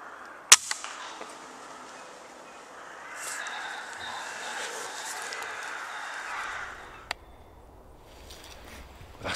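Single air rifle shot fired up at a crow at an evening roost, one sharp crack near the start followed by a faint later click, with bird calls in the background.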